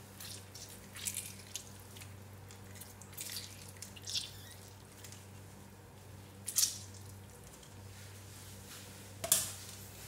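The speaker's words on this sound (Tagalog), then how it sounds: "pipigaan natin ng lemon. So gumamit po ako guys ng strainer para hindi po masama yung seeds ng ating lemon" A lemon is squeezed through a strainer, with juice dripping in a few faint, scattered drips and squishes over a quiet background.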